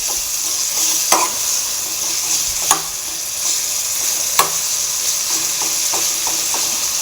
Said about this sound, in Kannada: ಚೆನ್ನಾಗಿ ಈ ಥರ ಫ್ರೈ ಆಗಬೇಕು.